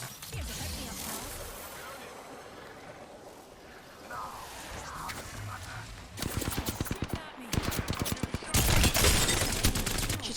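Rapid automatic gunfire bursts from the Apex Legends video game crackle over a busy battle mix, with dense rattling volleys in the second half that grow louder and more sustained.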